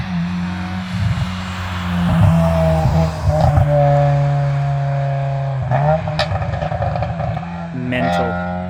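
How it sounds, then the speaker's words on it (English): A Honda race car climbs a hill at the Haunted Hills hillclimb event, its engine holding a loud, steady drone that rises and shifts pitch through gear changes, heard close by with people talking over it. "I think that sounds like a Honda that's coming up around the corner."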